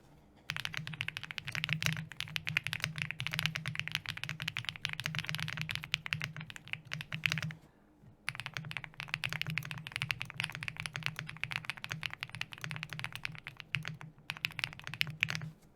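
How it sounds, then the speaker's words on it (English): Close typing on a Shortcut Studio Bridge75 keyboard in stock form with clacky SC and thonky Princess switches, dense rapid keystrokes in two long bursts separated by a short pause, no voices. "a sound test here of the board in its stock configuration with no mods, with both the clacky SC switches and the thonky Princess switches"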